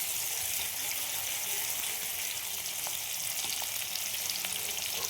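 Vegetables frying in oil crackle in a loud, even sizzle that runs unbroken from start to finish, with faint occasional pops and ticks close up and no speech.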